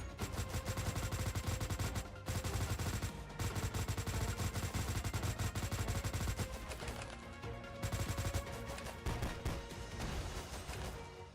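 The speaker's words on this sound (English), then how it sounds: "Special weapon. Look at that cannon." A cannon special weapon fires in the Houkai Gakuen video game, a dense, continuous barrage of loud blasts and crashes with brief gaps, filling the sound with heavy, sustained gunfire-like noise.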